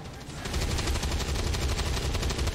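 Rapid bursts of gunfire from a squad firefight in the turn-based game XCOM 2, a fast, loud rattle of repeated shots rising after a brief lead-in and continuing steadily to the end.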